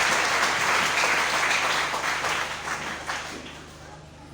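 Congregation applauding during a jubilee service at a French-speaking church, a sustained wash of many hands clapping that fills the room and slowly thins toward the end.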